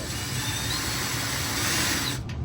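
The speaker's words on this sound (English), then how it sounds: "get your drill in and drill your next hole" A power drill bores a hole through a plastic Stormtrooper helmet, giving a steady, close, loud whirring grind that holds for about two seconds before cutting off.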